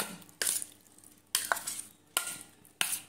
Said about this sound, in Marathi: मसाला सर्व बाजूला छान लागला पाहिजे, सर्व असं छान मिक्स झालं पाहिजे।